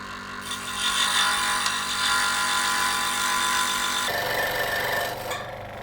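Scroll saw with a very sharp blade cutting wood, a steady buzzing, rasping drone running nearly six seconds, loud and close, with a change in tone near the end as the cut shifts.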